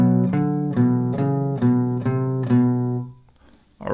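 Guitar plays the main melody of a song: a steady run of about six plucked notes over sustained low bass, close and clear, fading out at the end.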